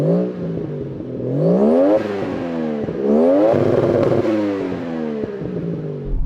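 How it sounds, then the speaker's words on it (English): A Toyota Chaser's engine is revved hard twice, each burst climbing steeply in pitch and then falling back, close and loud with no talking. "How about the Toyota Chaser? Let's hear you rev it."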